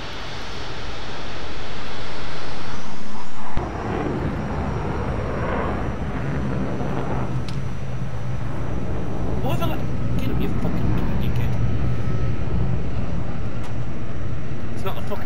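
A jet aircraft engine roars loudly overhead, a sustained broadband rumble that dips briefly then builds again over fifteen seconds, with people shouting and talking underneath.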